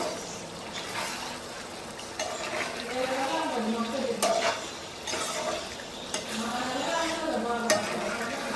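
Tomato and chili masala being stirred in a pan on the stove, with a continuous sizzle and irregular scraping under steady voices, the stirring scrapes and taps close and moderately loud.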